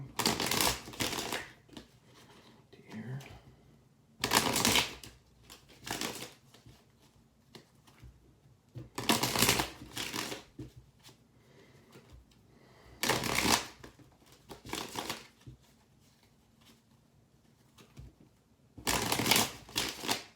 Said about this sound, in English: All right, 5 shuffles.